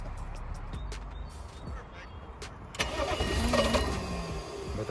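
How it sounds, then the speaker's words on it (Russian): A BMW car engine cranks repeatedly with a whirring, rhythmic churn that grows louder but never catches and runs. "Так он крутит."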